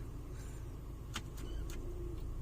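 A 2014 Range Rover Evoque pulling off on a test drive, with a steady low engine and road rumble throughout and a few short bright clicks or whirs partway through, no talking.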